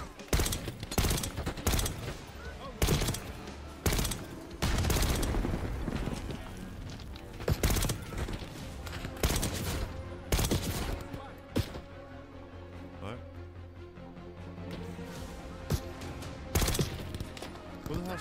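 Gunfire in the Call of Duty Black Ops 6 video game, rapid bursts and repeated sharp shots with varied loudness across the battle, mixed with other game sounds.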